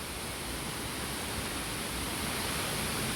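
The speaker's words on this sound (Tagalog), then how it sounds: "Kita natin yung tatlong falls sa first floor mga kalibot suroy" Three tiered falls pour with a steady, dense roar of rushing water, loud and unbroken throughout, with no voices over it.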